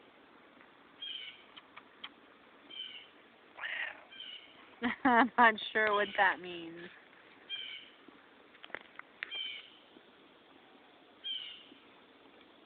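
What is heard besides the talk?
cat meowing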